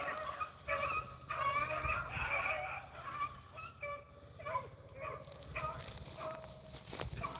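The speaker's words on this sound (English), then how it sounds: "I mostly just run and listen to the dogs run. We got a good race now." Beagle pack in full cry on a rabbit chase, a tangle of overlapping bays and yelps from several hounds echoing at a moderate distance, continuous and uneven in rhythm.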